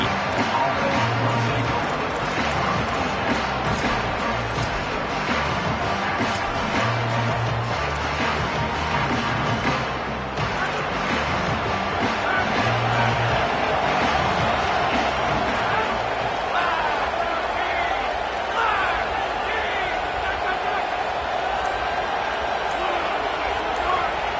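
Roaring stadium crowd at a college football game, Miami versus Texas Tech in the College Football 27 video game, a loud continuous wash of noise under steady commentary.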